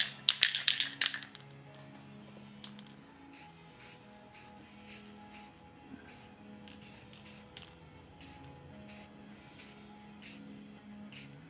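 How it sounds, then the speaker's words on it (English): Short bursts of aerosol spray as clear coat goes onto a painted 3D-printed collectible model of the Arc Raiders Matriarch, a loud hiss at the start, then faint repeated hissy puffs over a low hum. "That clear coat is really what finishes it off."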